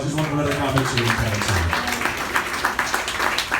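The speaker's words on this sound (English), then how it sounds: "give him a round of applause" A comedy club audience applauds a comedian, the scattered clapping rising in the second half beneath a voice speaking over the crowd.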